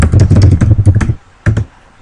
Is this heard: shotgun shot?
no